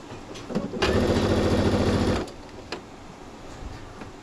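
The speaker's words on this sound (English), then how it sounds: "I'm just going to start to sew to the front of my quilt" A sewing machine stitches binding onto the front of a king-sized quilt in one steady, close burst of about a second and a half, then stops and leaves quiet room tone with a few light handling clicks.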